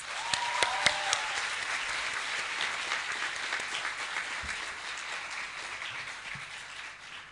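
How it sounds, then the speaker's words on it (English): A graduation ceremony audience applauds the graduates' parents, with steady massed clapping from a large crowd that fades slightly toward the end. "please give your parents a huge round of applause."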